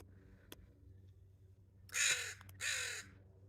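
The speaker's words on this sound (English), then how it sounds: "Crow likes that." A crow outdoors by a willow wall gives two loud, harsh caws about a second apart, clear and fairly close against quiet background hum, with no talking over them.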